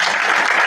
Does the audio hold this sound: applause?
yes